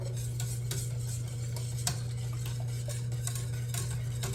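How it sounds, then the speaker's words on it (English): Grits being whisked in a pan, a steady run of light metallic scraping and clicking strokes close by over a constant low hum, with no talking. "And I whisk them in because I don't want them to stick."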